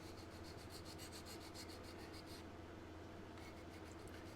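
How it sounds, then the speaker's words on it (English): A hand file rubbed flat across a plastic model kit part in steady back-and-forth strokes, a soft continuous rasping scrape close up with no talking. "take Mr. File here and just sand"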